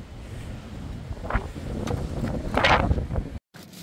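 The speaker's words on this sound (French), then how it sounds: "et bah du vent fort et de la flotte" Strong wind during storm Jana on the coast at Cap Couronne near Martigues buffets the microphone in heavy rushing gusts with rain, rising in bursts before a brief cut-out near the end.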